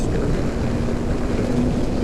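A Voge 525DSX motorcycle engine held at high revs, around 6,000 rpm in fourth gear, a steady loud drone with a faint rising tone, buffeted by wind noise throughout.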